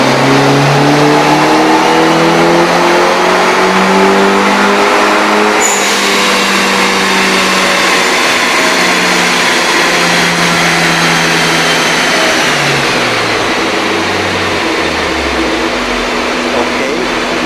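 A turbocharged Mitsubishi Airtrek engine revs hard through a dyno pull, a loud, continuous, rising drone of engine and turbo that climbs and falls in pitch over many seconds.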